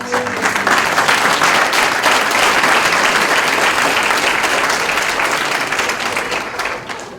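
Graduation ceremony audience at Collège Boréal in Toronto bursting into sustained applause, dense and loud throughout, tapering slightly at the end.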